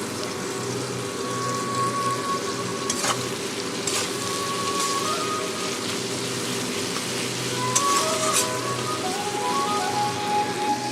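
Potatoes fry in hot oil in a pan while a Bengali fish-head methi shak chorchori is being cooked, giving a steady, close crackling sizzle with small pops throughout and no talking.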